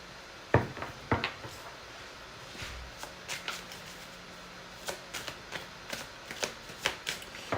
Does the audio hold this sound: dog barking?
no